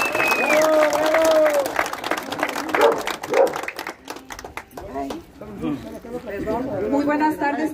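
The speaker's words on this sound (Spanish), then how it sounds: "Fuerte el aplauso para Jessy Cabal" Audience applause at a campaign launch event, a burst of clapping and crowd noise at first that thins out, with a voice speaking over it and more talking toward the end.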